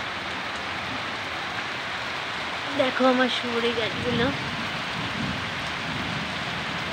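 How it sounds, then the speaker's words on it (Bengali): Rain falls steadily over a garden of areca, casuarina and guava trees, with drops landing on the recording phone, a constant near hiss of drops that continues while a person speaks briefly midway. "আবার বৃষ্টিটা শুরু হলো"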